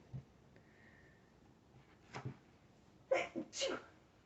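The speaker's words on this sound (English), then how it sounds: "I have to sneeze." A few quiet sniffs build into two sharp, close sneezes near the end, in a quiet indoor room.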